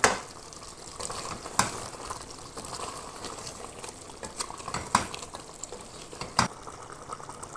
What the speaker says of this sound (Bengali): এখন দিয়ে দিলাম আমি পেঁয়াজ, এভাবে মোটা মোটা করে কেটে নিয়ে রেখেছি